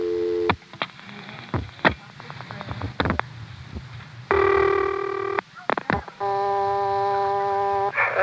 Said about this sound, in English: Here's a recording from 1973 of dialing 0.